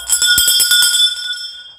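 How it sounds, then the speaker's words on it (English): A synthetic notification bell chime, a bright ringing tone struck in a rapid run of several hits that then rings out and fades, loud and alone with no talk. "make sure you subscribe to this channel and you ring that bell."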